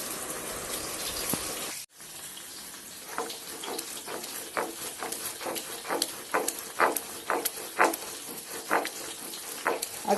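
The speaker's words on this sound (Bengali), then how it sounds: "আজকে এই যে শিল পাটায় মশলা বাটতে নিয়েছি।" Spices being ground by hand on a flat stone slab with a stone roller, a traditional shil pata in a home kitchen, giving a steady series of rough scraping strokes, close and fairly loud, with no talking.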